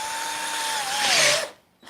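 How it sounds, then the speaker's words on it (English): A power drill fitted with cobalt bits bores a hole in woodwork, a steady high whine that rises into a harsher burst of cutting noise, then cuts off abruptly near the end. "We need to drill a hole. Drill a hole. Put the cobalt bits here."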